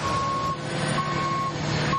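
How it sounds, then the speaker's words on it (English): A city salt truck backs up on a wintry street, its reversing alarm beeping steadily in a repeating pattern over a continuous loud engine rumble and the constant wash of traffic noise. "City trucks have been loading and reloading with salt all day today"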